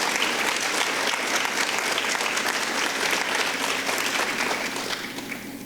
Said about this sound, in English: I'd like to give a real round of applause to all our staff and faculty